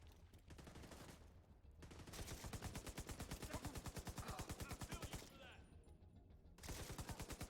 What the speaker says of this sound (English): Someone's way up there that's shooting at me.